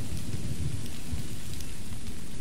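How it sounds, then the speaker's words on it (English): Heavy rain pours steadily in Empire: Total War during a siege battle at St Petersburg, with a deep rolling thunder rumble underneath, loud and continuous with no pauses. "look at the weather here, it's absolutely bucketing down"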